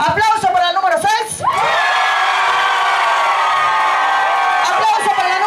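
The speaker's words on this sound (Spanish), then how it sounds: "¡Aplauso para la número 6!" An announcer speaks briefly, then a Zumba competition crowd at a Stuttgart Latin American festival erupts into sustained, loud cheering and whooping that holds steady to the end.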